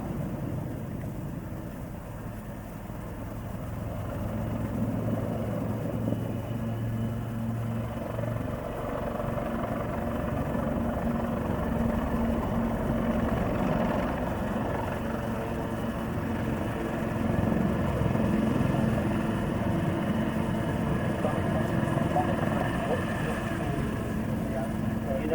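Helicopters flying in close formation at the Southport Air Show 2024, a steady rotor and engine drone rising and fading over a long stretch, with people talking over it.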